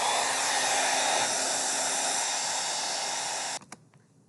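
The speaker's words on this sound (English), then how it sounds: "whether you use a hair dryer or whether you just wait for it to dry" A hair dryer blows hot air over wet paint with a steady loud whooshing hiss, then cuts off abruptly near the end, leaving a few faint clicks and near silence.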